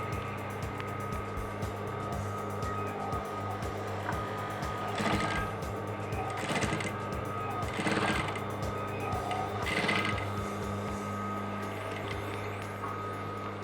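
Sewing machine stitching a traditional shirt placket, with a steady mechanical hum running throughout and a few louder whirring bursts of stitching near the middle, moderately loud and close.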